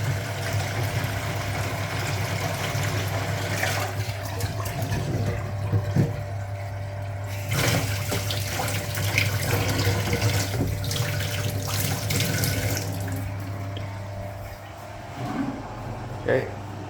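A Hoover Automatic 820 washing machine drains its load, water rushing and gurgling steadily with a constant low pump hum throughout, fairly close and loud, with no voices over it.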